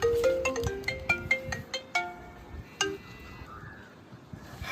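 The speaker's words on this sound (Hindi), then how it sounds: "घुसका फोन आलो, देखी ना मोबाइल में।" Mobile phone ringtone with bright chiming melodic notes in a quick descending pattern that fades out, followed by a single isolated chime and quieter tones afterward.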